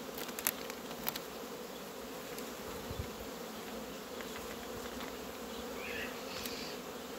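A honeybee colony buzzing on a hive frame after a cold spell, a dense steady drone that stays constant throughout, with a few faint clicks.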